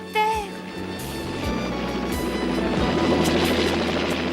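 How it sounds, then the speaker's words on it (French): A helicopter's rotor thumps and engine drone grow steadily louder as it approaches in a French-dubbed cartoon, with a brief voice-like tone at the start. "Tiens, le voilà. Mon hélicoptère."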